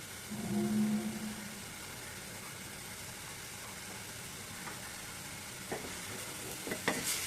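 Spices frying in a pan for liver bhuna, a low, continuous sizzle with faint stirring scrapes, a soft background hum and a few sharper clatters toward the end.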